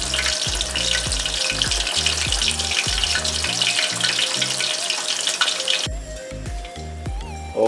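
King mackerel frying in hot oil, a loud, constant sizzle and crackle close by, with some clunks and scraping against the pan.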